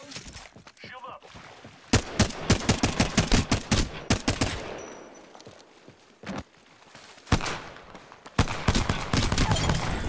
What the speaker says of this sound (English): Are they still shooting at us?